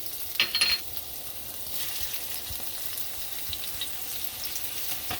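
Chopped ginger and cumin seeds sauté in hot oil for bhindi do pyaaza, giving a steady, close frying sizzle after a brief clatter at the start.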